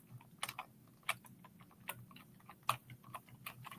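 Keys clatter on a computer keyboard in irregular bursts of crisp clicks, close and fairly quiet, with no talking.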